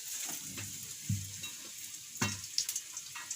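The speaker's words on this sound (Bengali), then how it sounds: "ভাজাভাজি চলছে" Close, bubbling sizzle of food deep-frying in oil, with occasional clinks and scrapes of a utensil; no talking.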